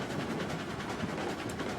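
Steam locomotive in Railroads Online hauling 15 cars up a 3% grade, a steady low rumble with faint rhythmic clatter of the wagons rolling continuously nearby.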